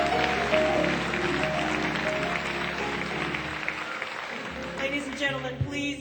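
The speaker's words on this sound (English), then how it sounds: "please, a round of applause" An audience at a Seattle Colleges Martin Luther King celebration applauds, steady clapping filling the hall throughout and thinning out toward the end.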